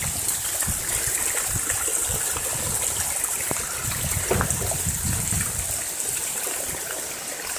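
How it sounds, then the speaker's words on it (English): A steady, close rush of water running along a natural water course in December, an even churning hiss that holds throughout with no talk. "That's the natural water course"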